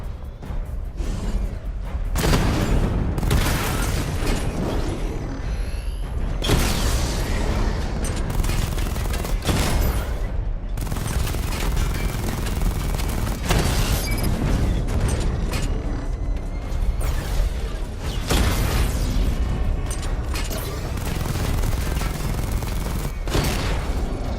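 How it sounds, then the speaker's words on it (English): Missile barrage from the Batmobile in Batman Arkham Knight, a dense run of loud booms and mechanical clatter with several gaps between volleys over a long stretch. "Charge up missile barrage to level 2 and destroy 4 active targets to complete diagnostic test"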